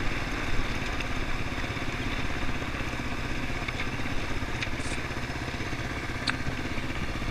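A Yamaha Serow enduro motorcycle rides along a rural road near Susuman in Kolyma, its engine producing a steady rumbling drone at moderate level with wind noise and no talking.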